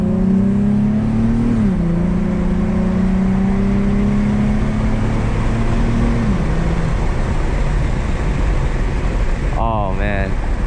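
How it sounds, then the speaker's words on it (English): A 2007 Infiniti G35 Coupe with a front air intake accelerates hard, its engine note rising through the gears with a loud, grunty intake roar, dipping briefly at the shifts, then settling into a steady cruising hum before a final short rev. "I do have an air intake in the front, which I really enjoy. Can really hear that intake sound. But I think it has a very grunty sound."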